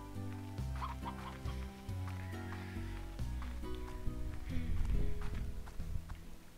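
Hens cluck repeatedly in the video game Slime Rancher, a steady run of soft clucks over layered background game music and ambient sound.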